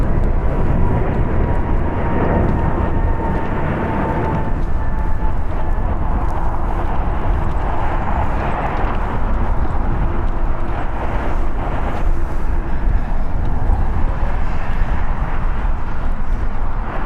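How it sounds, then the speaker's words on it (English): An Alaska Airlines Airbus A321neo departing LAX for Seattle makes a continuous broad engine roar that swells and fades slightly over the span, heard alone without voices. "Departing is Alaska Airlines Flight 1317"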